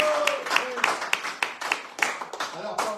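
Crowd in a full hall applauding for a French live radio bistro show, steady clapping with sharp accents throughout, while a voice talks over it in the background.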